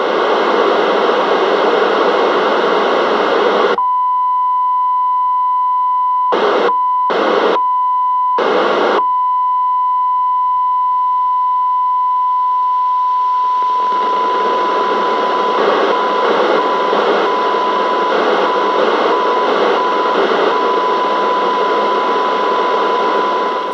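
A test signal from a signal generator received on an AOR-5000 reference receiver: a loud, steady tone over hiss, cut off for a few seconds, then short repeated bursts, then a long stretch returning with rising noise.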